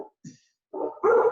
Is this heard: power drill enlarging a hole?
no